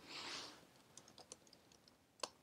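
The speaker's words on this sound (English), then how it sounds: "Now you need to type in the exact email address, which is this one. Okay, so I'm going to type it in here" Quiet keyboard typing as an email address is entered: a sparse run of light, irregular key clicks after a brief soft rustle, ending with one sharper keystroke.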